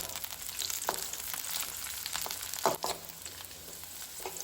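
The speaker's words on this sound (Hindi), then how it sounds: "यहाँ पे हमारा ओनियन हो गया अच्छे से फ्राई" Chopped onion and torn green chili fry in a pan, producing a loud, continuous sizzle with occasional sharper crackling bursts and stirring scrapes, no voices.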